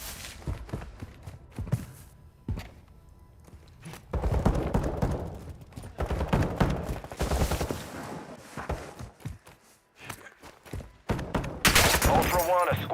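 Bursts of automatic gunfire and single shots crack through a Call of Duty Warzone DMZ firefight, loud and close in irregular volleys, mixed with footsteps, thuds and brief radio-style voice lines.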